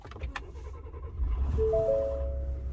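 A 2018 Ford F-150 pickup engine cranks and catches, settling into a steady low idle rumble that fills the clip, with a faint high whine during start-up.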